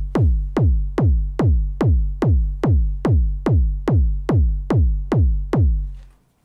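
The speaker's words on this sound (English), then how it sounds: "Next, we have our kick that sounds like this." Techno kick drum synthesized with the Thump 1 plugin, hitting alone in a steady four-on-the-floor pulse of about a dozen booming, punchy thumps with long low decays, loud and close, ending in silence.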